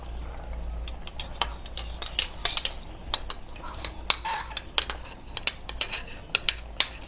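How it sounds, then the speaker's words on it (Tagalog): Pork with sweet-spicy UFC ketchup is stirred in a pan, a rapid run of sharp metallic scrapes and clinks from a utensil against the cookware, close and irregular over a faint low background hum. "Ating haluin."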